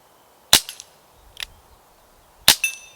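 A Webley MK VI revolver fired outdoors, two sharp loud gunshots about two seconds apart with a fainter crack between them, each trailing off in a short echo.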